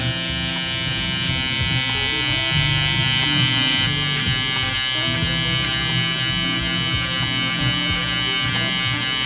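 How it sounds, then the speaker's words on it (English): An electric hair trimmer buzzes steadily and close while cutting a taper fade, a constant whine with small shifts as it moves through the hair. "I'm gonna go a little bit harder now with my trimmer"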